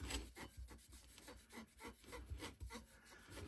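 A Q-tip rubs quickly back and forth over a cast iron surface, making close, soft, rhythmic scratchy strokes that repeat steadily with no voices.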